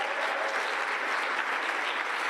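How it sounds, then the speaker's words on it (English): Steady applause from a large audience at a summit on malaria and neglected tropical diseases in Kigali, a dense, even clapping that fills the room without pause. "we can give them another round of applause"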